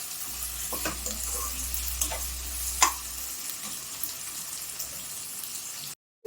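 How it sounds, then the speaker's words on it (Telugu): Potatoes fry in a pan for aloo kurma with a soft steady sizzle, interrupted by scraping stirs and a sharp clink of the spatula, then the sound briefly cuts out. "కొంచెం లైట్ బ్రౌన్ వచ్చాక ఆలుగడ్డ వేస్తాను."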